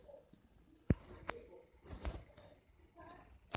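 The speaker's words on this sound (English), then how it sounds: "Oh, I found a bird." A bird mob from the More Mobs mod in Minecraft makes soft cooing, pigeon-like calls, faint and intermittent, with a few sharp taps and clicks in a quiet game setting.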